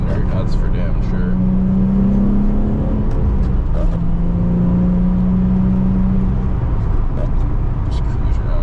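A Nissan 350Z Nismo cruises along with a loud, continuous engine drone and road rumble heard from inside the car, with a faint whine rising and holding at times and voices mixed into the noise.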